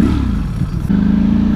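A Ducati Streetfighter V4 SP engine revs up close, a loud rough V4 growl that dips briefly before settling into a strong steady drone, with no talking.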